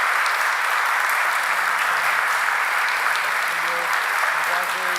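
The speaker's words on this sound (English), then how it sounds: "A big round of applause." An audience at a city Board of Aldermen meeting claps steadily for the whole stretch, with faint voices mixed in beneath the clapping.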